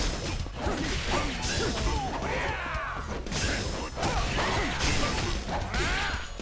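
Street brawl in the video game Yakuza Kiwami 2, with loud continuous fight audio of smashing impacts, thwacks and swooshing swings layered over one another without a break.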